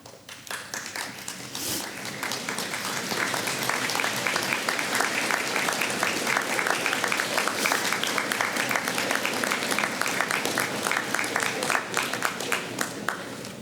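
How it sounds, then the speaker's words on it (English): A university convocation audience at the Ridgetown Campus of the University of Guelph applauds in a sustained, dense wave of clapping that builds quickly and holds steady for over ten seconds. "look at those seated around you and behind you, and applaud all who have helped you to get to this point."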